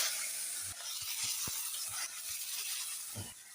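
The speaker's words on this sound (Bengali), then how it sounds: "নেড়ে দিলাম ভালো করে।" Shrimp frying with chopped onion, tomato and green chilies, stirred in a hot pan: steady sizzle with soft scraping strokes and occasional clinks of the spatula, no talk.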